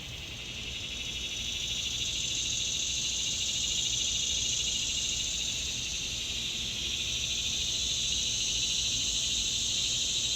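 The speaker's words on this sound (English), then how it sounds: "Hear the cicadas?" Cicadas chirp in a dense, high-pitched buzzing chorus that swells in and holds steady and loud throughout.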